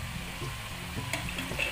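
Whole chicken frying in hot oil in a pan and being turned over, a continuous loud crackling sizzle with faint scraping of the utensil.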